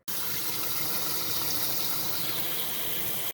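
Water from a tap pours steadily into a cooking pot holding an onion to make broth, a continuous, close, full gushing splash that runs evenly from start to finish without any talking.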